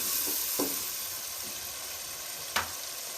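Spice masala for a mixed vegetable curry frying in a pan, a quiet steady sizzle with a couple of faint scraping stirs, nearby but soft, no voices.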